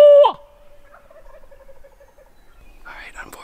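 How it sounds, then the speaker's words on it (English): A loud wild turkey gobble bursts out at the start during a turkey hunt, then fades into quiet rustling with a burst of bird chatter near the end. "There's a bird gobbling that wasn't gobbling earlier,"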